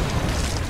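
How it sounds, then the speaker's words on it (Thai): An in-game explosion in Resident Evil Revelations 2, a dense, roaring low rumble that stays loud and sustained through the short burst, with no voices over it. "มันต้องเสียงอย่างนี้ระเบิดแน่เลยใช่ไหม"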